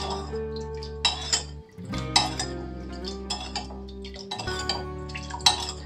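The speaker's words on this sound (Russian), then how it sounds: "Тщательно перемешиваем, чтобы растворился сахар и соль." A spoon stirs an onion marinade in a bowl to dissolve sugar and salt, giving irregular clinks and scrapes against the dish. The sounds are close and come in short bursts with brief pauses between them.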